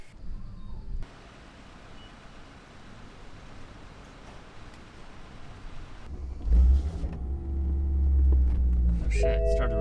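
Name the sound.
BMW M3 engine starting and idling on E85 fuel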